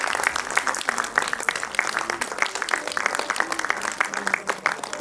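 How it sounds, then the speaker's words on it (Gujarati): Steady applause from an audience at a community gathering, honoring an elderly couple celebrating 55 years of marriage; dense, even clapping fills the room without a break and no one speaks over it. "આપણે બધા એમને ફરીથી એકવાર જોરદાર તાળીઓથી એ આપણા વડીલ કપલને આપણે વધાવીશું"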